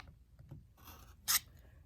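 A blade cutting through material on a cutting mat, a quiet scraping slice with a short sharp rasp near the end, close and otherwise soft.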